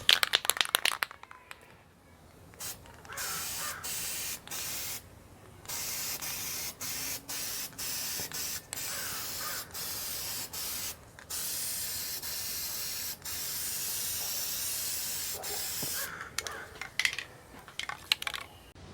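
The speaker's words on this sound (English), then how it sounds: "And I'm going to do the first coat of primer" Long, loud hissing bursts of spray paint lay the first coat of light gray primer on a BMW E70 X5 wheel, repeated passes broken by short pauses and a few faint clicks, close by with no talking.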